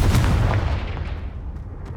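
A Confringo blast spell from Hogwarts Legacy goes off as a heavy, booming explosion at the start, then rumbles and fades away over the following seconds.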